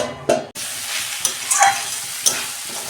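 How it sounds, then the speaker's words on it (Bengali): Mixed vegetables sautéing in a pan over a low gas flame for a vegetable khichuri, a steady close sizzle broken by a few scraping stirs and clinks of the spoon, with no talking. "আমি 2 মিনিট গ্যাসের ফ্লেম আস্তে করে আমি কষাবো সবজিগুলো।"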